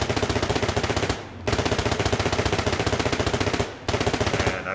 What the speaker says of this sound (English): So this got us a quick shooting Tommy gun with a good amount of recoil.